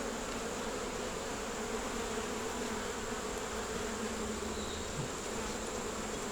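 Honeybees at a hive drone in a soft, continuous buzz, faint and steady from close by, with no voices over it.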